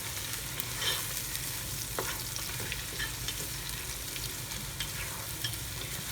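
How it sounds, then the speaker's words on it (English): Ginger garlic paste fries in hot oil for prawn pulao, a steady close sizzle with a spoon scraping and stirring through the pan, and no talking. "Fry until the raw smell of ginger garlic disappear."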